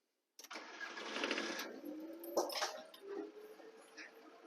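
A VW camper diesel engine cranks and fires up, settling into a rough, rattling idle with some irregular revving, fairly close and steady after a sudden start.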